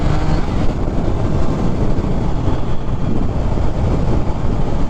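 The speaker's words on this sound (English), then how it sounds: "it's got a standard exhaust sound" A 2021 Triumph Trident 660 motorcycle with its standard exhaust, ridden on the road in Southern California: a steady, loud engine and exhaust drone blended with heavy wind buffeting on the microphone, continuous throughout with no talking.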